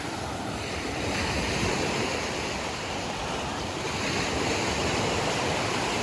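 Continuous rushing surf on the shore at Banana Beach in Thailand, loud and steady with heavy wind noise buffeting the microphone.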